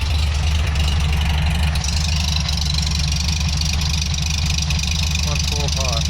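A rebuilt Vokaro car engine idles with a loud, steady low rumble and a slight knocking beat, close by, while people talk over it near the end.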